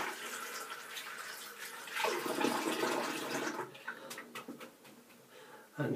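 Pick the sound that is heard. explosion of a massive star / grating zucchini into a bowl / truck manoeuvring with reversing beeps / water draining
water draining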